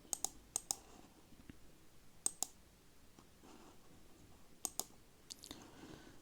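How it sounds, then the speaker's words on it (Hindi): Computer mouse clicking on a website link, sounding as small sharp clicks in quick pairs and short bursts, close and quiet, with no talk. "तो इस पर आप चलिए क्लिक करते हैं।"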